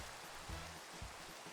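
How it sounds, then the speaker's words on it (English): Rain falls in a jungle biome in Minecraft as a soft, steady hiss of drops, faint and continuous, with a couple of low thuds underneath. "It's just constantly raining on and off."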